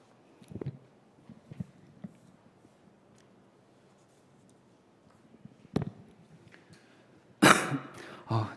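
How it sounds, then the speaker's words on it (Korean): Coughs and throat clearing come from a lecturer in a quiet room, a few short isolated bursts spread out before a louder rustling noise near the end. "제가 저번에도 기침을 했잖아요"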